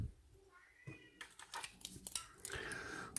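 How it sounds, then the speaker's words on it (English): A pet cat meows indoors, crying in a few drawn-out tonal calls over light tapping and clicking noises. "That's my cat being annoying because he's not allowed out."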